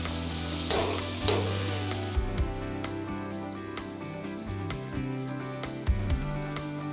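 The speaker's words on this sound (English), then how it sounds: "We're going to put our steak on, and then we're going to rotate it and keep on rotating so we build up that crust as much" Flank steak sears on a hot grill, crackling and sizzling steadily close by, with a few sharp scrapes and clanks as the meat is turned and moved, and no talk.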